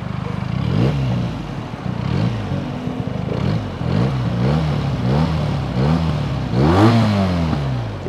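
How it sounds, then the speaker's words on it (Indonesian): A Benelli TNT 250 two-cylinder motorcycle revs its exhaust repeatedly, with loud rising and falling engine pitch sweeps over a steady idle, close by and without talk. "Nih coba kalau kalian mau dengar suara knalpotnya nih."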